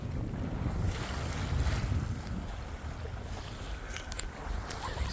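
Steady wind roars over a sailboat beating upwind in fog, with constant low buffeting and the wash of water against the hull, continuous and close with no voices.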